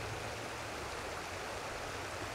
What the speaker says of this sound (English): The Big Thompson River flows from a mountain backdrop